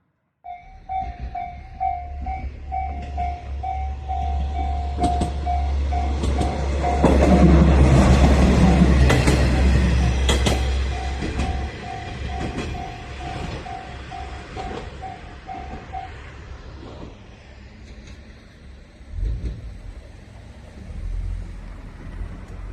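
A Japanese train rumbles along the rails, with a steady low roar, clattering wheel bumps and a sustained tonal whine that swells mid-clip, then fades to quieter rolling.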